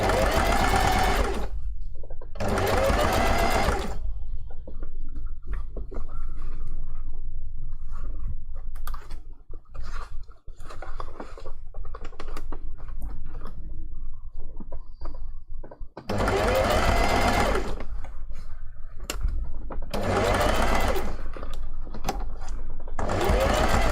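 Sewing machine stitching an appliqué hand paw for a fursuit: two bursts at the start and a long steady run near the end. Quieter handling and fabric rustle fill the stretch between them.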